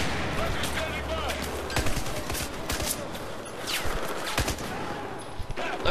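Rapid video game gunfire from Battlefield 4, dense bursts of automatic shots layered with explosions and combat noise, loud and continuous throughout with a voice speaking intermittently over the battle.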